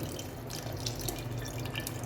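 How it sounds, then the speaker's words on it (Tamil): Strained coconut milk pours into a pot for a village-style sardine curry, a soft steady trickle and splash of liquid that runs on continuously and quietly. "இப்போ வந்து வடித்து ஊற்றுறாரு தேங்காய் பின்னியும்."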